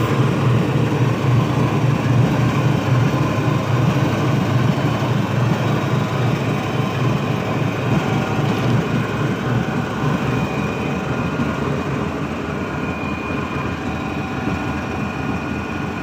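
A GE U40 diesel locomotive, number 9037, runs nearby with a loud, steady engine rumble and throbbing drone, plus a faint high whine, continuing without pause.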